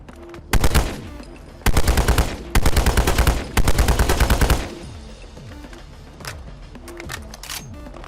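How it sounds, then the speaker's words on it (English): AN-94 Russian assault rifle from a Modern Warfare weapon mod in Fallout 4 firing several loud rapid bursts, each sharp volley cutting off cleanly, followed by softer scattered clicks and mechanical handling sounds. "the AN-94, a Russian assault rifle from Modern Warfare"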